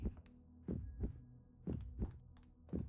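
Heartbeat sounds in the video game Little Witch in the Woods thump in steady double beats, deep and booming, repeating roughly every second without talk.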